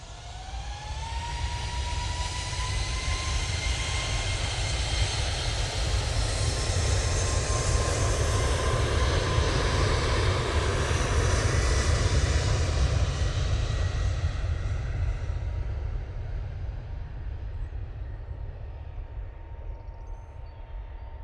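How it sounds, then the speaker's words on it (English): A TUI Boeing 737-800 bound for Malaga takes off from Manchester Airport, its loud jet roar and rising turbine whine swelling to a peak midway before slowly fading as it climbs away. "we've got this TUI 737"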